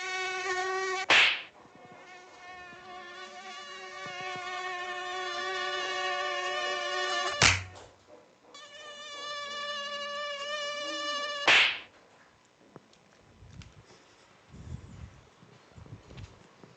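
A recorded mosquito's high, whining buzz played loud and sustained for several seconds, broken by a few sharp slaps or clicks, then fading to quiet room noise with faint shuffling.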